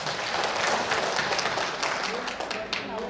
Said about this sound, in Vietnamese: hãy tặng cho anh một tràng pháo tay được không ạ